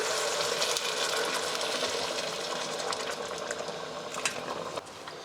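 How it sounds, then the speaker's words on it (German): Water poured into a pot of cabbage stew with chopped tomatoes, giving a steady broad hiss and bubbling rush that fills the whole stretch, close and fairly loud, with no talking. "Dann können wir schon mal ein bisschen Wasser dazu geben."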